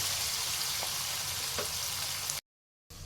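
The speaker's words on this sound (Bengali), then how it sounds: "আলুটা আমি এমনভাবে ভাজবো যেন আলুটা তেলেই সেদ্ধ হয়ে যায়" Potatoes fry in hot oil, a steady, dense sizzle, close and continuous, then a brief cut to silence before the sizzle resumes.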